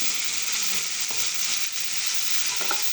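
A jackfruit seed and prawn curry with curry leaves is stirred in a hot pan, giving a bright continuous sizzle with soft scraping strokes from the spoon.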